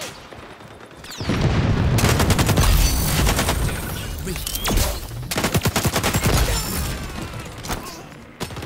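Rapid bursts of gunfire and a loud flashbang crack during an XDefiant match, dense overlapping shots rattling on and off for several seconds.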